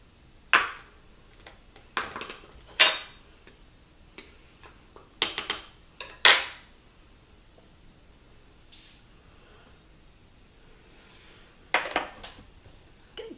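Banana bread batter with flour is stirred in a bowl, heard as irregular clinks and scrapes of a utensil against the bowl in short bursts separated by quiet gaps.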